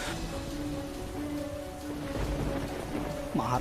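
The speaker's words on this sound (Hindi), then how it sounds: "लेकिन ये बारिश तो रुकने का नाम ही नहीं ले रहा है" Heavy rain pours steadily during a cartoon storm, a dense hiss of falling water with a faint low rumble beneath it and background music tones running through.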